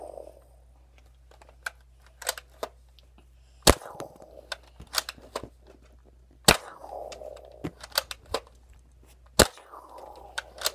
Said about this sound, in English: I got the surge fire, 15 rounds. Fire!